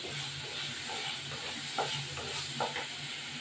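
Water splashing into a hot pan of Bengali dhoka curry (lentil cake curry), producing a steady, close sizzle and hiss with a few brief bubbling bursts, no voices.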